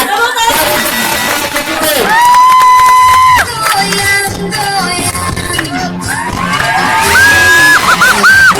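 A cabaret audience breaks into loud, sustained cheering and clapping for performers being welcomed on stage, mixed with bright music tones and crowd noise throughout.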